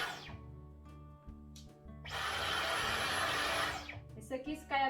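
A Dyson vacuum cleaner runs in a brief, steady whooshing burst of a couple of seconds. Background music plays, and a person talks around the burst.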